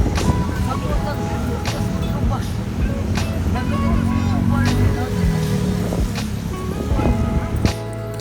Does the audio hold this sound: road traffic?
yes